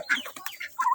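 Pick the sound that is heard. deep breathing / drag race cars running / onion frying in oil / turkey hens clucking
turkey hens clucking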